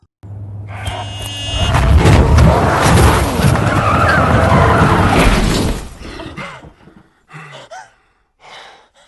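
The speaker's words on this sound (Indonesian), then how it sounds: "Doria tidak sengaja menabrak sebuah mobil yang berasal dari arah yang berlawanan" A car in a film scene skids into an oncoming car on the road, a loud sustained tire screech and crash lasting several seconds, followed by fading debris, gasps and short bursts of breathing.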